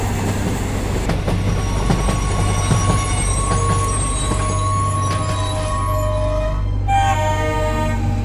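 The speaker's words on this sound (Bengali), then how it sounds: "11:30টার ট্রেন আসছে।" A cartoon train rolls into a station, steady rumbling and clattering wheels building over several seconds before squealing brakes and a tonal whistle near the end.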